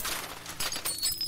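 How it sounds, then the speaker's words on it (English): Glass of a TV screen shattering from a punch as a sound effect in a horror story, a loud, close burst of crashing and breaking with bright tinkling fragments over about a second, with no talking. "It shatters instantly upon impact, bringing the single screen to silence while the others continue."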